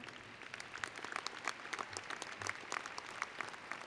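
A commencement audience at NJIT applauds university staff, with steady crowd clapping from many hands, fairly faint and distant, sustained for several seconds.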